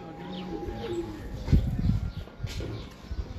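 Pigeons coo softly at a rooftop loft in Kasur, with low repeated coos, a few chirps and a brief flutter close by over quiet background noise.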